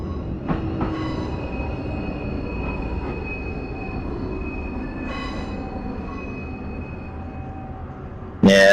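A train rolling along the rails between Portsmouth and Waterloo: a steady rumble with faint wheel squeal and a few clanks, close and continuous, then a sharp louder burst at the very end.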